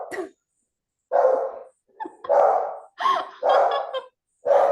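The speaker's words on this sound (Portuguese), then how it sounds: "Essa é a minha pequena latindo," A small dog barks nearby in a series of loud, sharp yaps separated by short pauses.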